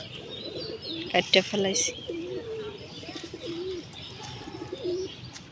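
Pigeons near a garden with dragon fruit plants give repeated low, rolling coos, close by and moderately loud, with a few chirps, while a person speaks briefly over them.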